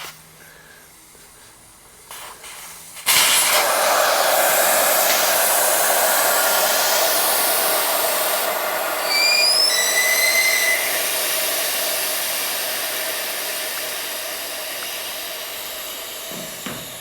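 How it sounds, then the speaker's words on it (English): Air blasts out of a Suzuki SV650 motorcycle tire through the Schrader valve with its core removed, a loud steady hiss starting abruptly after a quiet lead-in and slowly fading as the tire goes flat. "So let's walk over here to this SV650, let the air out"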